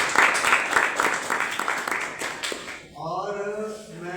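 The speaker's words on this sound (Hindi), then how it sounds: "एक बार अपने लिए भी ताली बजाएं।" Students at a yoga talk break into dense, lively clapping for almost three seconds, which then thins out as a voice starts speaking over the last stretch.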